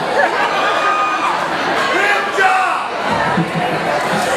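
A comedy club crowd cheers and hollers loudly, with mixed shouts, chatter and some laughter swelling and dipping over several seconds.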